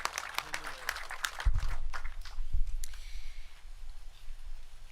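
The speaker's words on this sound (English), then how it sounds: "Let's give our mayor a round of applause for coming to Richmond Hill" Community audience at a Richmond Hill safety event claps for the mayor, a burst of applause that swells then thins out, with some voices mixed in.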